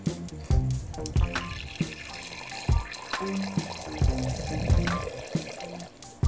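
Water is poured into a tarantula's water dish in the enclosure of a horned baboon tarantula, Ceratogyrus darlingi. It sounds close up, with uneven splashy trickles and small drips.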